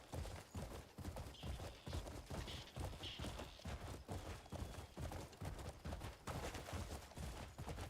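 Horse hooves pound in a fast, steady gallop while riding in the video game Crimson Desert, a regular drumming beat that runs the whole time at low volume.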